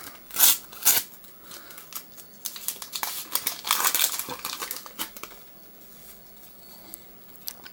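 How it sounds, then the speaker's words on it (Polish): A foil wrapper on an Ekstraklasa 2014 football sticker packet is torn open and crinkled close by, with a couple of sharp rips early on, then steady rustling and crackling that fades to softer handling. No one speaks. "Otwieramy piątą paczuszkę."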